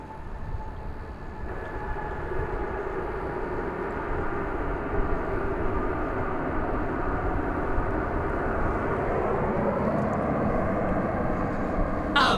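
An old aircraft at DFW Airport gives a steady, loud engine roar that holds throughout, with a rising whine near the end and no voices.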